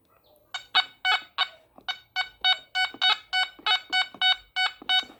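Anfibio metal detector on its 3-tone setting chirping over a coin: a rapid series of about fourteen short, evenly spaced electronic beeps, loud and close, with no talking.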